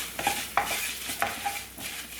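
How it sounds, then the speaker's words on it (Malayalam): Spices for poha chivda being stirred in a hot pan, a few quick scraping strokes with a soft sizzle underneath, close and clear, with no voices. "നന്നായിട്ടെല്ലാം കൂടെ ഒന്ന് മിക്സ് ചെയ്ത് കൊടുക്കാം"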